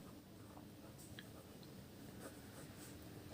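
A pen scratches across paper while a math solution is written out, faint and close, with soft irregular strokes and small ticks over quiet room noise.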